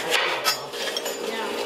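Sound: knife cutting the ends off an orange

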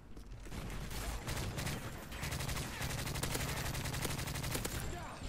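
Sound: gunfire from the video game Call of Duty: Modern Warfare 3

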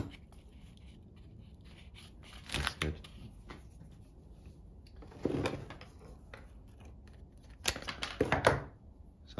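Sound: cutting bonsai roots of a Fuji cherry

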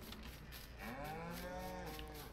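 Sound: cows mooing in video game Farming Simulator 19

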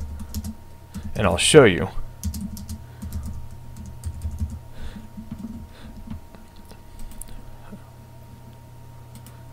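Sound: typing a word on a computer keyboard

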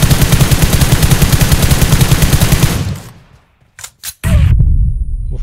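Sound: automatic rifle spray gunfire in PUBG Mobile video game

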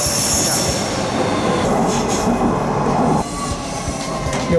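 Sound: light rail train running above ground from London City Airport

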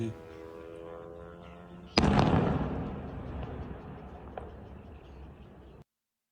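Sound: explosions near Millerovo military airfield during drone attack

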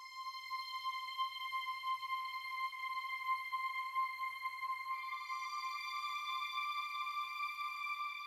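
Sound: slow synth sound from Korg Triton through delay

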